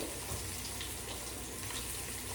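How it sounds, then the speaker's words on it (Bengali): Water pours steadily into a pot of washed rice, a continuous soft splashing gush heard alone and close, with no talking over it. "তো এখানে আমি 6 কৌটা জল দিয়ে দেবো"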